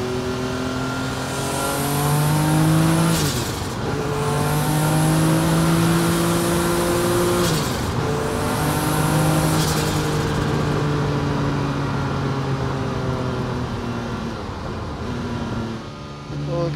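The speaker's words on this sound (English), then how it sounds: "Hear that engine sing." The 730hp Porsche 962 Group C race car at Goodwood screams close up through several gear changes, the engine note rising and dropping again in clear steps as it pulls hard through Lavant.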